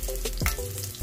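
Onion sautéing in a pan, a brief close sizzle with a few clinks and scrapes, no talk.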